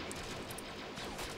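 Clone troopers firing blasters in a Star Wars mod of the Men of War: Assault Squad strategy game, a dense, continuous volley of overlapping shots with crashes, steady and loud across the whole moment.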